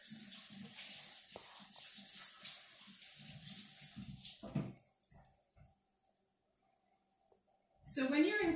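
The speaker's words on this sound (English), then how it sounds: "Let me wash my hand real quick." Hands are washed under a running tap, a close, steady splashing water flow that stops partway through, leaving near silence before a brief louder sound at the end; voices are faintly present.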